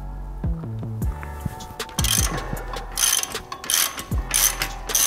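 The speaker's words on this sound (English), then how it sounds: "We're gonna start by loosening the front nut and bolt." A ratchet wrench clicks steadily while loosening a tight front suspension nut and bolt on a BMW G20, close and loud over a constant low hum.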